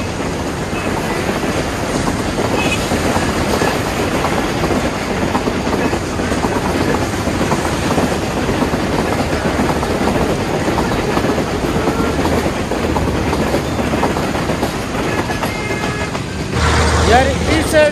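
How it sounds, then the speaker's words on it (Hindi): A train rolls past close to a railway station with a steady rumble and clickety-clack of wagons throughout, while someone talks over it. "और ये ट्रेन जा रही है यहाँ से यार।"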